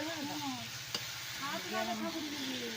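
A spoon stirs vegetables and spices frying in a pan, with a steady sizzle beneath. Faint voices are audible under the cooking.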